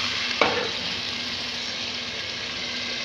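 Chicken pieces fry in a pan for a korma, a steady close sizzle with one sharp spatula clink near the start, then continuous hissing alone.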